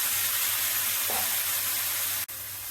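Vegetables frying in hot oil with cumin seeds and spices for a mixed pumpkin curry, a steady broadband sizzle that continues evenly throughout, with no talk.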